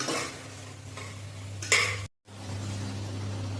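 Almonds, cashews and raisins frying together in a pan, a soft steady sizzle with a spoon stirring and scraping the metal, a brief sharper clatter midway and a short silent gap.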